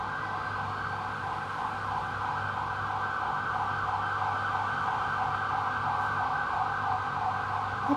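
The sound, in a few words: ambulance siren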